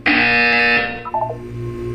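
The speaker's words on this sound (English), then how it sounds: "You will hear a buzzer." A loud electronic buzzer in the Portal video game, one sustained harsh tone lasting under a second, followed by a brief lower chime and a quieter humming tail.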